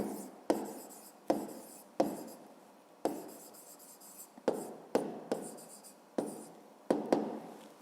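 Pen strokes scratching across paper while solving a fifth-grade math exercise, coming in short repeated bursts with sharp starts and brief pauses, close and fairly quiet with no talking.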